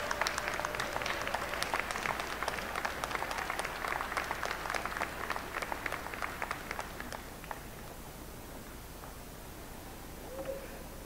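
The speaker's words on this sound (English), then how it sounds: "give them a round of applause" Audience at a Washburn University School of Law commencement applauds family and friends, a broad wash of clapping that fades out after about seven seconds, leaving a quiet hall.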